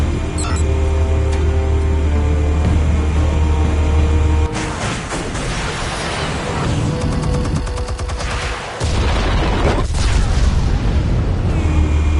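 Explosives detonating in the video game Batman Telltale: a heavy boom followed by rattling, gunfire-like bursts and rumbling debris over a sustained low drone, loud and close.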